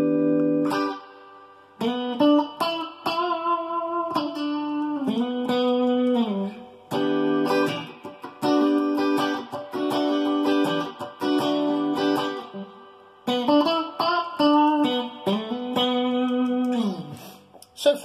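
Patrick James Eggle electric guitar with an ash body and Mojo single-coil pickups, played through a Mesa Boogie Express 525 amp with a touch of reverb: a clean, loud run of chords and sustained notes in phrases, with brief pauses, no voices.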